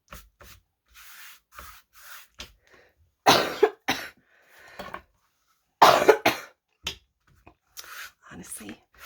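Someone coughs a few times at close range, harsh bursts separated by quiet, with faint rubbing and handling sounds of crafting a recycled book cover in between.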